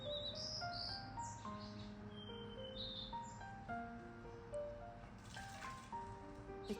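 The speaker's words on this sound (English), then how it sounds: "Come on, there are more birds coming." Several small birds chirp and tweet in a steady, overlapping chorus around a backyard birdbath on a California morning, the calls fairly close and continuous over a soft ambient background.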